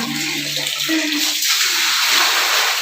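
Water poured out during cleaning, a loud close rushing splash with a brief gurgling tone at the start, then a broad steady wash of water.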